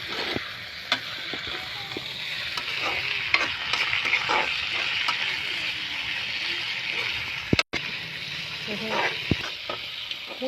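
Masala gravy for fish fry sizzles steadily in a blackened kadhai while being stirred, with scraping strokes against the pan under a constant frying hiss, close and fairly quiet.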